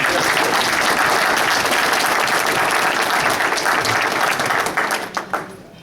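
An audience at an honoring ceremony breaks into a sustained round of applause, dense clapping filling the room before tapering into a few last scattered claps.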